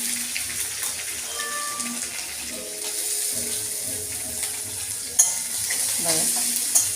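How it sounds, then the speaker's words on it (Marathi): Onion fries in a pan with cumin, mustard seeds and crushed garlic for paneer bhurji, a continuous sizzle with stirring and a brief clatter near the end, moderately quiet and unvoiced. "कांदा थोडा गुलाबी रंगावर तळून घेते"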